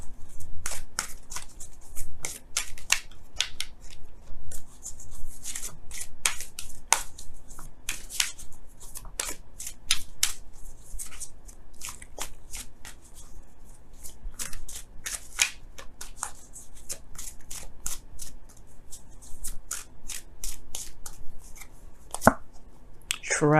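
Romance Angels oracle cards are shuffled steadily by hand for a long stretch, giving rapid, crisp riffling and slapping bursts close up, with no talking.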